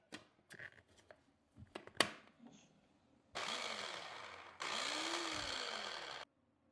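A small food processor grinds toasted sesame seeds with avocado oil: a few light clicks and taps, then two steady whirring motor runs, the second slowing in pitch as it winds down, fairly loud and alone.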